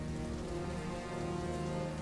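Steady rainfall during the monsoon season, a dense continuous hiss of drops on surfaces, loud and close with no breaks, set under a low tonal drone.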